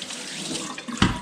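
Cold tap water pours into a pan in a steady close splashing stream, with a slight surge near the end, and no voices.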